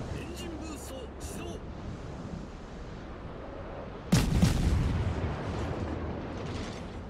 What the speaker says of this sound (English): those shots, they kind of gave my position away